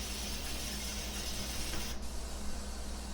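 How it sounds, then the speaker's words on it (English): Steady machine ambience fills a performance room as a continuous mechanical drone with a constant low hum and a bright hiss, loud and unchanging, with the upper hiss cutting out near the end. "So I can hear the machines are definitely a bit too loud."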